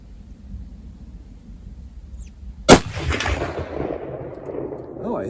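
A single sharp rifle shot cracks out midway from a Mosin Nagant 91/59 carbine firing Czechoslovakian training ammunition, loud and near, then rolls off into a long echoing decay over quiet outdoor background.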